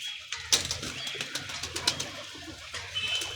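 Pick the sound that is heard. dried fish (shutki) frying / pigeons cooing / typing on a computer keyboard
pigeons cooing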